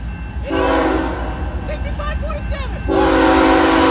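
BNSF freight train 6547 sounds its horn while passing: a loud chord blast, a pause with whoops and voices, then a second long blast over a constant rumble of the train.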